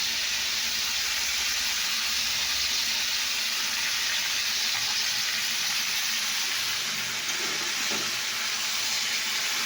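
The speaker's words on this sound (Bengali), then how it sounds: "সয়াবিনটাও ঢেলে দিলাম, আলুটাও ঢেলে দিচ্ছি। দেখতে থাকুন, হলুদ দিলাম" Potatoes frying in soybean oil with turmeric, a steady close sizzle and hiss running throughout with no talking.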